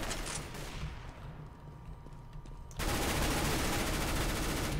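Gunfire in the shooter game Counter-Strike: Global Offensive: a dense, loud burst of rapid automatic shots erupts suddenly after a quieter stretch of ambient game noise, continuing without a break.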